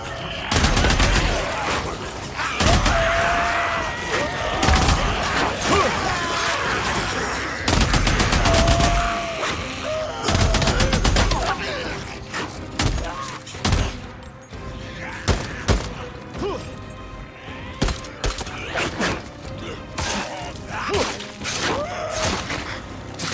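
Repeated bursts of gunfire in the video game Days Gone, rapid volleys and single shots cracking in quick succession, loud and close, with brief lulls between flurries.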